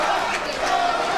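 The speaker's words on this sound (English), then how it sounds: "Crowd chanting" A boxing crowd chants and roars in a large arena, a dense sustained wash of many voices over about a second.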